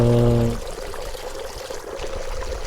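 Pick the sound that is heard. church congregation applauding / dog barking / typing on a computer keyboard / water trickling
water trickling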